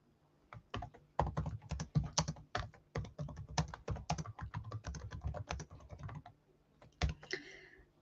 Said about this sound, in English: Let me write this in the chat.